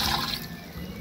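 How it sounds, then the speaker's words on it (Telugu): Water is poured into a pounded paste of tomato, tamarind and spices for an oil brinjal curry, giving a steady, close splashing trickle that eases slightly after a moment. "దానికి సరిపడా నీళ్ళు వేసుకుందాం ఫ్రెండ్స్"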